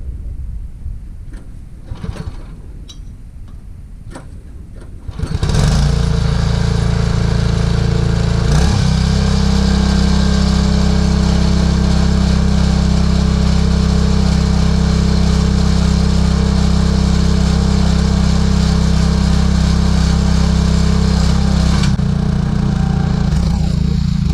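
Small gas engine on a log splitter, fitted with a new carburetor, cranks a few times and then catches, settling into a loud, steady close-up drone that runs on for about twenty seconds.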